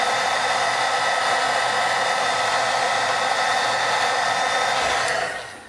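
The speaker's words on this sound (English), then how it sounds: "with my embossing heat tool. And you'll see it starts to melt really fast." Embossing heat tool blowing hot air, a loud, steady close-up whooshing hum that holds evenly for several seconds before being switched off and winding down at the end.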